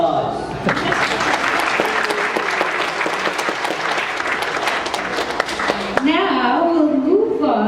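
Loud, sustained clapping from a summer camp audience, a thick wash of hands for about six seconds before it gives way to a voice speaking.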